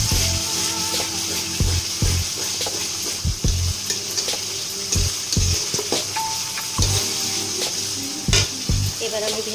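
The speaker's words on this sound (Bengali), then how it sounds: "এবার মশলাটা আমি কষতে থাকবো যতক্ষণ পর্যন্ত দুধ থেকে তেলটা না ছেড়ে দিচ্ছে, ততক্ষণ পর্যন্ত।" Masala paste fries in oil while being stirred, with repeated close, thumping scrapes of a spoon against the pan over a constant loud sizzle.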